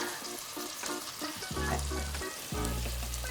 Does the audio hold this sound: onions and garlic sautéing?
yes